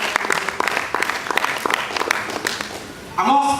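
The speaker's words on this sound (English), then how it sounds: "Please give her a round of applause." Scattered audience clapping at a mentorship summit in Badagry, sparse individual claps of moderate loudness, ending as a voice begins speaking.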